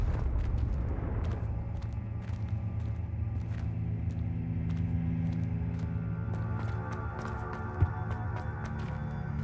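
A Confringo blasting curse in Hogwarts Legacy sets off a broad, sustained low rumble that fills the scene, with scattered sharp crackles above it and a brief thump near the end.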